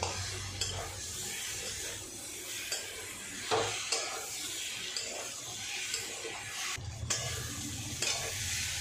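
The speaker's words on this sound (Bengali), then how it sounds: "বন্ধুরা দেখো আমার আলুটা অনেকটাই কষে এসছে। আমি আর একটু কষাবো" Potatoes being stir-fried in a pan scrape and rustle with a soft sizzle, steady close stirring strokes with a few louder scrapes and no talk.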